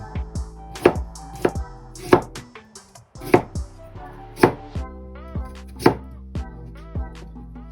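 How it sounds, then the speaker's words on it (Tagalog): A knife slices peeled carrots on a cutting board for rice-free veggie sushi, with sharp, steady chops roughly every half second and faint ringing between strokes, close and clear with a brief pause midway. "Pag na-slice na natin yung carrots"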